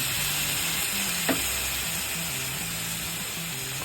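Mutton liver fries in a pan with a constant close sizzle while a spoon stirs it, giving low scraping strokes and a single brief clack of metal.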